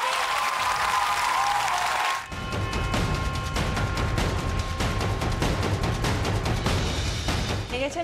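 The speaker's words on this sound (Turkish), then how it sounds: "Evet sevgili izleyiciler, şimdi alkışlarınızla Özlem Yıldız ve partneri James geliyor." A studio audience on a Turkish televised dance competition bursts into loud, sustained applause as a dancer and her partner enter, dense clapping continuing steadily after a brief opening of music.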